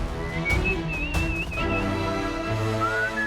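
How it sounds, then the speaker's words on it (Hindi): A whistle blown several times in short sharp bursts, fairly loud and close, with some background noise between blasts and no talk. "सीटी की आवाज।"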